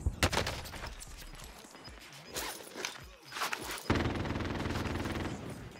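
Automatic sentry gun firing in a team-based online shooter, heard as bursts of rapid gunfire that come and go across the clip, ending in a sustained dense rattle of shots.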